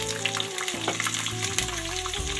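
Chopped onions and a bay leaf fry in oil in a pan, giving a steady close sizzle with soft stirring scrapes and no talking.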